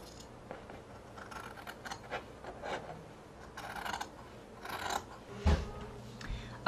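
Scissors cut around fabric for a donut pillow, giving close, irregular crisp snips and rasping scrapes in short bursts, with a sharper knock near the end and no talk.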